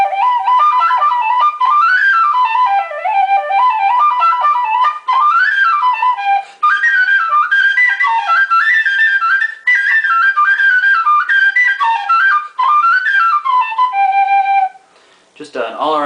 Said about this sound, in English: Just an all-around great whistle.